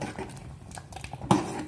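Sambar gets stirred in a cooking pot, with faint, scattered scraping and tapping and one clearer metallic clank of the spoon near the end.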